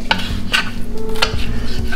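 Bacon and chopped yellow onion frying in a pan, a soft sizzle with a few sharp scraping stirs and utensil clinks over a low background hum.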